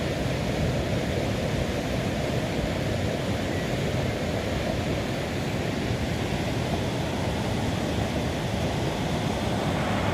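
A large river in Lupi, Camarines Sur runs with a steady, dense roar of flowing water, broad and unbroken throughout, loud and close with no voices over it.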